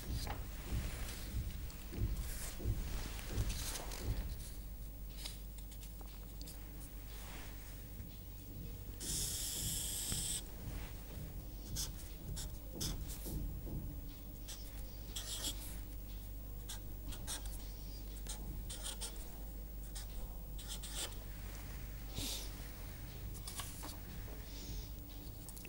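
Pen or marker sketching a diagram by hand during a signal-processing lecture on filter banks, close scratchy strokes and taps in irregular bursts over a steady background hum, without speech.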